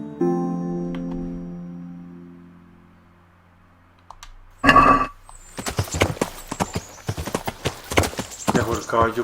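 Horse hooves clip-clop in Kingdom Come: Deliverance, a run of quick irregular beats after a quieter opening with a sustained tonal hum, fairly close and loud with a sharp burst midway.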